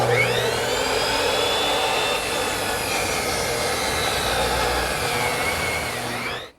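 A saw trims the ends off a glued-up cherry blank for a corner chair, giving one loud, steady, whining cut that runs unbroken for about six seconds and stops abruptly at the end.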